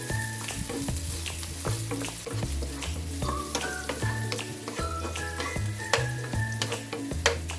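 Onions hit a hot pan with garlic for a Filipino fried fish with bean sprouts dish and fry in a steady close sizzle. Rhythmic scraping and clinking of a stirring utensil run through it.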